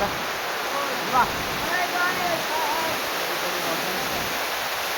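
Water rushing out at an outflow, a loud continuous broadband roar that stays steady throughout, with faint voices underneath.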